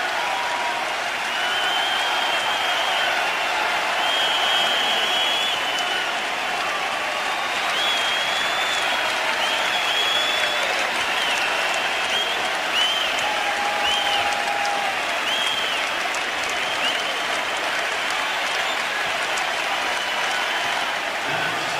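An arena crowd in Philadelphia applauds Allen Iverson, a loud, steady wall of clapping and cheering that carries on unbroken from start to finish with no talk over it.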